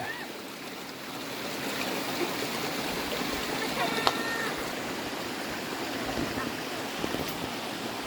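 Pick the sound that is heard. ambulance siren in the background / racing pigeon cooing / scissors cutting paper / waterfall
waterfall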